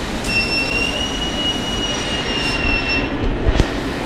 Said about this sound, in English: Michael, is this our train?